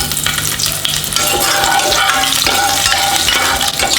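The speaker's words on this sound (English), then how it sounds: "Now I'm going to add some more oil to it. Then add the garlic." Garlic frying in hot oil on high heat for momo filling, a loud continuous sizzle with scattered crackles and faint utensil clinks, no voices.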